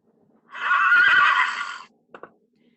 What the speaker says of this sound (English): even with Judas, the slowest horse in all Christendom, pulling our wagon